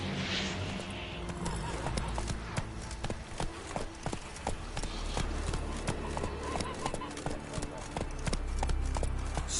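Galloping hoofbeats of Roach, the rider's horse in The Witcher 3: Wild Hunt, a steady rapid clip-clop running through the whole stretch over ambient game sound, with someone talking over it.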